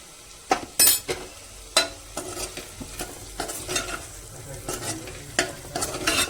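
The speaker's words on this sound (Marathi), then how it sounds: "अंडी चांगली तेलामध्ये फ्राय झाली आहेत। आता मी गरम मसाला टाकते" Eggs fry in oil as garam masala is stirred in: a soft sizzle runs underneath while a spatula scrapes and clacks against the pan in irregular, close strokes.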